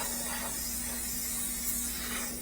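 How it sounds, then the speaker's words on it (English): A handheld spray bottle mists water onto a tattoo in a continuous, close hiss that holds steady throughout, with a faint low hum underneath. "So I'm just going to very carefully spray"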